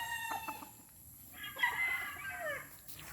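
Bull stag roosters in a small backyard gamefowl pen crow and cluck nearby, with one drawn-out crow rising over scattered clucks, set against faint farmyard background noise.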